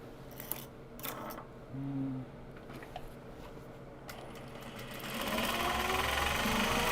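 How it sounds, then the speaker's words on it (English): Sewing machine stitching small box bags, running in short bursts with quiet pauses, then a steadier, louder stretch of stitching toward the end. "Back stitching's at the bottom, so this is just going to get sewn right up"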